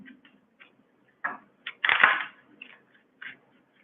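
Tarot cards shuffle in a handful of brief riffling bursts, one longer and louder flurry in the middle, separated by quiet gaps.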